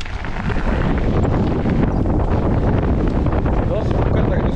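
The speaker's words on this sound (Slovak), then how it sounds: "Dosť fúka, tak dúfam, že ma bude počuť." Strong, steady wind buffets the microphone on autumn mountain enduro trails above Smolnice and Buková, a loud continuous roar and rumble filling the whole stretch with no gaps.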